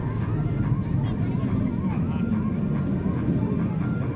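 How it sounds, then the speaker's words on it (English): F/A-18F Super Hornet jet engines at an airshow at NAS Oceana, throttling up after touchdown: a steady, loud broadband roar with a heavy low rumble and wind-like noise, continuous throughout. "Throttles are coming forward aboard the Super Hornet."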